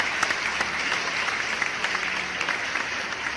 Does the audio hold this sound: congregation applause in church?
yes